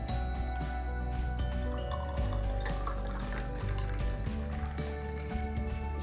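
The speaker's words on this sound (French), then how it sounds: "On vient finir avec la limonade pour avoir un cocktail bien rafraîchissant." Lemonade pours into a cocktail glass as a steady liquid trickle with bubbly, fizzy texture, close and moderately loud, with a low hum underneath.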